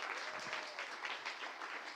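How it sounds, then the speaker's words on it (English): An audience applauds after a presentation at a music technology event on MiMU gloves, steady dense clapping filling the room at moderate level throughout, with no speech over it. "A round of applause"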